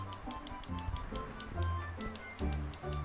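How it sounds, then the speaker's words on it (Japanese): A fuel injector, clogged and cleaned with ultrasonic cleaning and WAKO'S Fuel One, clicks open and shut in a quick, steady series of sharp ticks heard close up over a low background hum. "バルブは中の弁が開いたりしてる音は、インジェクターの音は出るようになりました"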